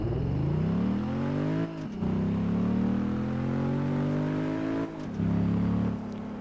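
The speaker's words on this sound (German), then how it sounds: "Ja, der kann noch driften, der Scheißwagen." A car engine in the Test Drive Unlimited 2 racing game revs steadily while drifting, its tone climbing and briefly dipping twice as the throttle lifts, loud, close and continuous with no talk.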